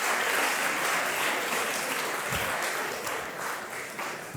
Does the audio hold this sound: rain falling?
no